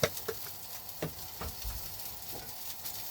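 Sausages frying in a pan, a steady close sizzle with small pops and crackles throughout.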